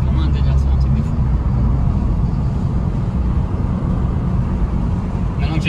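A combustion-engine car being driven, its steady low rumble and road noise running continuously underneath someone talking in French.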